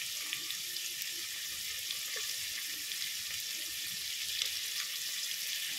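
Green chillies and fenugreek leaves sizzle in hot oil in a pan on their own, a steady close hiss with faint crackles running throughout at low volume.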